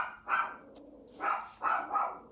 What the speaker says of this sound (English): there goes my dog again. I don't know what she's barking at this time.